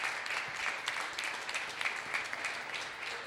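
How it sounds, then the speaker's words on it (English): Faint, fairly distant applause from a small audience at a 2019 Ron Newman Cup arena soccer championship press conference, a steady patter of individual claps running throughout. "Give him a round of applause."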